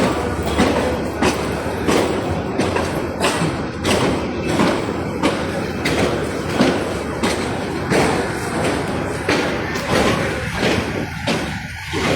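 The crowded Kalni Express, carrying passengers on its roof, rolls into Kamalapur railway station with a loud, rhythmic series of heavy thuds and clanks from its wheels over the rail joints, running steadily against a dense background rumble.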